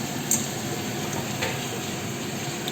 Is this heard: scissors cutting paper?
no